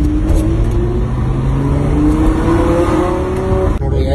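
A Lamborghini Gallardo engine blips and revs loud and close as it matches revs on a downshift, a steady throaty drone with rising tones, heard from inside the car.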